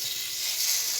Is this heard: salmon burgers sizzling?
yes